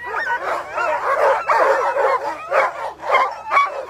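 Sled dogs at the start of the 2022 Copper Basin 300 race bark, yip and whine excitedly in a dense, overlapping chorus, close and continuous throughout.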